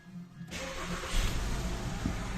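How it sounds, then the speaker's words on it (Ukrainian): A cold 2013 VW Passat 2.5 engine with no compression in the first cylinder cranks and catches, then settles into a steady, fairly loud running rumble close by. "Зараз продемонструю, як двигун запускається та працює."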